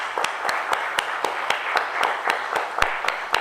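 Audience applause at a school ceremony honouring matriculation position holders, heard as steady, evenly spaced claps in a hall, moderately loud and continuous throughout.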